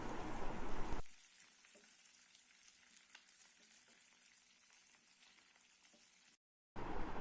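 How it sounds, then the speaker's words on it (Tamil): Curry leaves fry in hot oil over a medium flame, a steady soft sizzle and crackle after a louder opening burst, with faint stirring scrapes and a brief drop to silence near the end. "கருவேப்பிலை நல்லா இந்த அளவுக்கு ஃப்ரை ஆகிடுச்சு"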